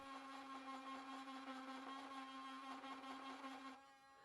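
A Dremel rotary tool carves into wood during a gaming table build, a faint, steady high-pitched whine running evenly and then dropping off slightly near the end.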